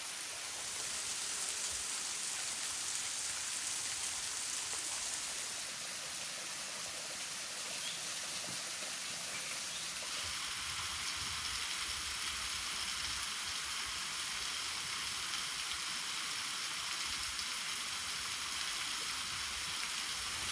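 Steady, dense rushing of a jungle waterfall in Uthai Thani, Thailand, constant and enveloping, with a broad hiss and no voices.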